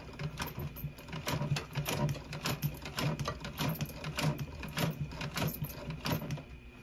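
A sewing machine stitching seat upholstery for a custom lowrider: rapid, steady mechanical clatter of the needle running continuously at close range, with slight surges in speed and no talking.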